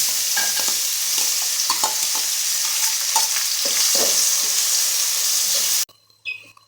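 Oil sizzles loudly and steadily as onion and green chilli fry, broken by scraping stirs and clinks of a utensil, until the sizzle suddenly drops away near the end.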